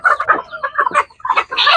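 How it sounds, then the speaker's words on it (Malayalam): A three-and-a-half-month-old Egyptian Fayoumi hen clucks loudly and close by, a quick run of short choppy calls with brief gaps, heard alone without talk. "ഇതൊരു പേടയാണ് കണ്ടില്ലേ ഒരു മൂന്നര മാസമായ ഒരു പേട"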